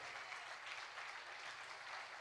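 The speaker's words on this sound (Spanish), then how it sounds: "Dale fuerte ese aplauso al Señor." Congregation applause at a Spanish-language church service at C.C.I Luz y Vida, a steady, dense, sustained clapping that fills the space for a couple of seconds without pause.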